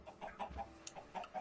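Chickens in the video game Minecraft Sky Factory 3 give a few soft, faint clucks in quick succession, heard alone.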